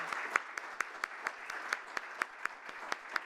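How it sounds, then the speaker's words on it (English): Applause at a university awards ceremony for category winners, heard as sparse, evenly spaced sharp claps, roughly three or four per second, fairly close and moderately quiet against a soft room background. "One more round of applause for the winners of this category."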